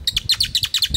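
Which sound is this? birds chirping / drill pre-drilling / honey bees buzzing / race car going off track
birds chirping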